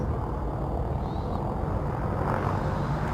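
Spaceship in a VR space game lifting off and departing a station: a steady, loud low engine rumble and broadband roar held throughout, with no voices.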